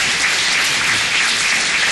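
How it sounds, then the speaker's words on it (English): Steady, loud applause from the audience at a city council meeting honoring a Citizen of the Month, a continuous wash of many hands clapping without pause. "everybody give her a round of applause for her efforts"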